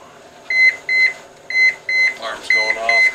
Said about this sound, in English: Alarm's going off because of the temp being open.